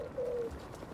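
A single low pigeon coo in the Spider-Man 2 video game, soft and close, lasting about a third of a second over a steady ambient city background.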